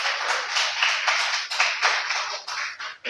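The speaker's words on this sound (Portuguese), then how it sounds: "Uma salva de palmas bem forte para Jesus." Loud applause from a church congregation praising Jesus, a dense, steady patter of many hands clapping that continues for about three seconds with no voices.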